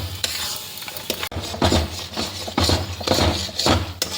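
Tamarind pickle with sugar is stirred in a pan, a spoon scraping and knocking against the metal in repeated strokes over a soft sizzle, close and fairly loud.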